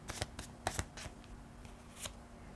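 Two decks of tarot cards are shuffled close up in quick riffling bursts, separated by brief pauses, with crisp papery flutters and no voices.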